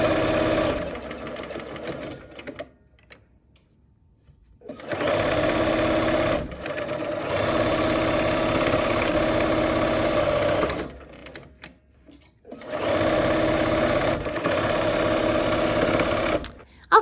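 Sewing machine stitching quilt blocks, running in three long steady bursts separated by short pauses, loud and close with a fast even mechanical whir.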